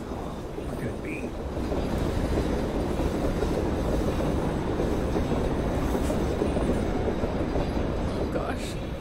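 Train wagon rolling in the horror game Reveil, a loud steady rumble of wheels on rails with faint squeals, continuous throughout at close range.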